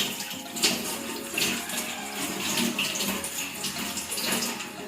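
Water runs and splashes in a continuous rinse while a patient is being washed during nursing practice, a close, steady rushing with small surges and no voices.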